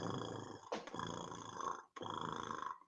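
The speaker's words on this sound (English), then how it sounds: "Yeah, when cats are happy and they make that lovely noise." Cat purring close up, a steady low rumbling vibration in two long stretches separated by a brief pause, quiet and alone.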